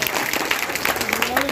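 A crowd of party workers at a political workers' convention in Badamba, Cuttack, claps in a continuous patter of many hands, loud and close, with voices audible underneath.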